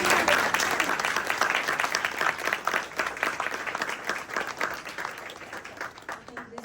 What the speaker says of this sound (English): Once again, please a round of applause.